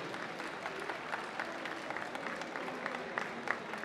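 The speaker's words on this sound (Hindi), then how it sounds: "जोरदार से जब तक आए तब तक तालियां बजती रहे" Audience applause at a comic book launch event honouring the late wrestler Dara Singh, a steady wash of many hands clapping, moderately loud and continuous throughout.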